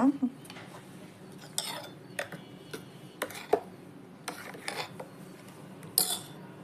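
A metal spoon scrapes and clinks against a pot of salted buttermilk gravy in irregular strokes, sharp taps standing out over a quiet room hum.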